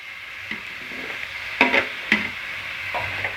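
Egg biryani being stirred after mint and coriander go in, with a steady sizzle from the pot and a few sharp scraping stirs of the spoon, clearest around the middle, no one talking.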